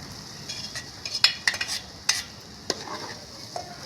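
Soya chunks stirred in a pan with tomato, giving a faint steady sizzle and a few sharp spoon scrapes and taps against the pan, close by, with no one talking.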